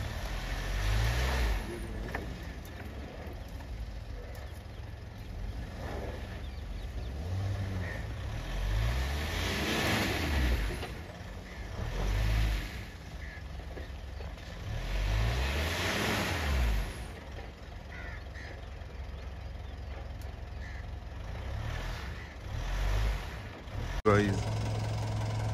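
A Mahindra Thar stuck in mud while off-roading, its engine droning and revving in repeated surges as it struggles for grip, with voices talking over the engine throughout.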